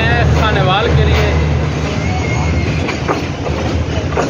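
Tezgam passenger train running from Lahore toward Khanewal, a steady loud rumble and clatter of wheels on rails heard from aboard, with a voice speaking over the noise.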